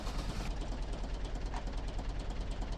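A tractor engine idles in the farming video game Professional Farmer 2014, a steady low rumble with a rapid, even knocking pulse, moderately quiet and unbroken.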